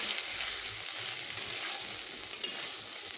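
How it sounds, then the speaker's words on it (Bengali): Bitter gourd, potato and tomato pieces frying together in a pan over medium heat, a soft continuous sizzle with faint stirring scrapes now and then. "এখন আমি মিডিয়াম হিটেই ভেজে নেব।"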